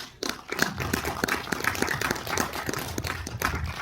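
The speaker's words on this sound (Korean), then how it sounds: "여러분 큰 박수로 시작하도록 하겠습니다" An audience at a movie preview screening in a cinema claps, a steady scattered patter of many hands, moderately close and sustained for a few seconds with some faint voices underneath.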